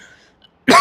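A single short, harsh cough bursts out loudly at the very end after near silence.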